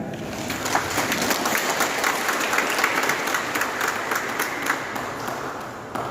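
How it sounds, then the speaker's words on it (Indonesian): An audience at an election supervisors' swearing-in ceremony breaks into sustained applause, a dense, loud patter of many hands that carries steadily throughout with a few sharper claps standing out. "Kita berikan tepuk tangan"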